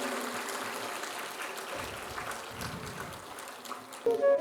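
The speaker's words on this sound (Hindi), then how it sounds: "सभी लोग एक दूसरे के लिए तालियों की गड़गड़ाहट करें।" Applause from a religious satsang gathering on the Ganga bank at the Magh Mela, a continuous moderate wash of clapping with some talk mixed in and a brief louder burst at the close.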